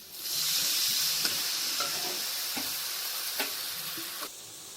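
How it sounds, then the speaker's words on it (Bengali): Ginger paste frying in a pan as a little water is added, a loud steady sizzle with soft scrapes and clicks of stirring, no voices. "আমাদের আদা কষা হয়ে গেছে এবার এর মধ্যে অল্প করে জল দেবেন"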